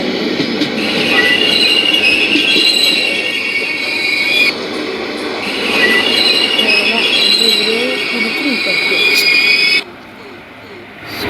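A train pulls into a station with loud, close wheel squeal and a steady rolling rumble, the screech rising and falling before cutting off near the end.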